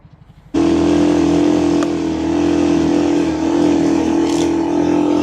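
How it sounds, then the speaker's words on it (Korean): A four-wheel motorbike (ATV) engine starts up and idles loudly with a steady low rumble, close by. "오토바이 소리 들리는 것 같습니다."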